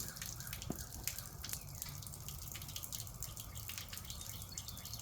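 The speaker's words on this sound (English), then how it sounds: "A little bit of water." Small splashes and drips of water applied by hand to a car body panel being prepped with a red Scotch-Brite pad and Comet cleanser before paint, faint scattered droplets over a steady hissing background in a garage.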